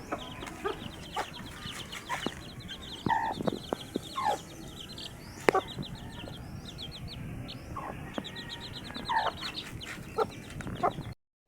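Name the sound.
mother hen clucking while being fed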